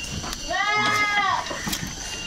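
A Boer goat lets out one drawn-out, wavering bleat at moderate distance over a steady background of farmyard noise.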